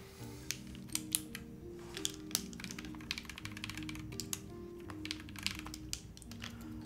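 Rapid, steady keystrokes clatter on a KBDFans Margo mechanical keyboard during a build. The clicks are crisp and close, with a few sharper accented strikes, and no voices are heard.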